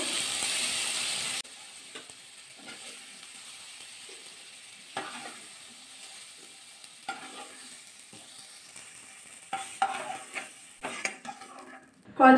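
Bottle gourd pieces frying in a pan, a loud burst of sizzling at the start settling into a quieter, steady fry, with occasional scrapes and clinks from stirring and utensils against the pan.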